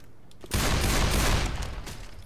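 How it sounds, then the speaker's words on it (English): Desert Eagle pistol fire from the Deathcraft mod for Left 4 Dead 2, one loud close blast after a quiet start that rings out and decays over about two seconds. "So we'll start off with the Deagle."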